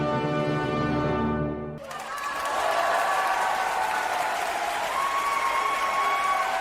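Concert audience applauding after a performance of the Brahms violin concerto, breaking out just as the last sustained orchestral chord ends, then a dense, steady wash of clapping from a large hall crowd.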